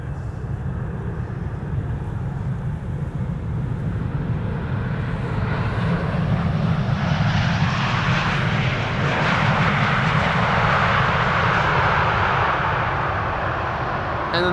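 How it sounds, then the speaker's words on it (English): Airbus A340 airliner landing at an airport, a steady loud jet engine roar with broad rushing noise that swells midway and holds strong through the end, no voices. "The A340 landing here."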